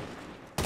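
Quick burst of gunfire at zombies in the game Infected Warfare, a faint muffled stretch then a loud sharp volley at the very end, brief and close.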